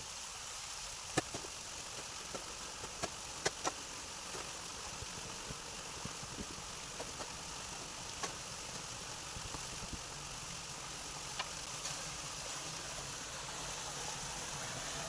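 Irrigation water flowing into a field channel, a faint continuous rushing wash with a low engine-like hum beneath and a few soft knocks.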